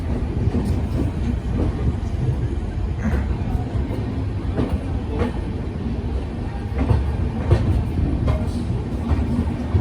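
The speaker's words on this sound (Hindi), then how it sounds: "पाँच नंबर प्लेटफॉर्म पर अराइविंग करती हुई 3:19 पर बाड़मेर सुपरफास्ट एक्सप्रेस" The Barmer Superfast Express train rolls into platform five at Jodhpur Junction with a steady, loud rumble of wheels and carriages, broken by faint clicks and rail clatter throughout.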